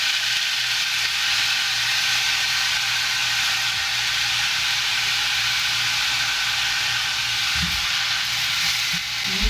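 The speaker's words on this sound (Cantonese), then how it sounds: "咁就煎佢一段時間，煎佢約莫2分鐘先。" Noodles pan-fry for soy sauce chow mein with a loud, continuous sizzle of hot oil close by, broken only by a brief low knock near the end. No voices are heard.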